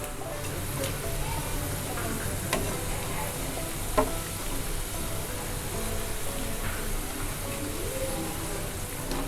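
Onion pakoda fritters fry in hot oil, giving a steady, dense sizzle and bubbling that runs close and unbroken throughout, with no talk over it.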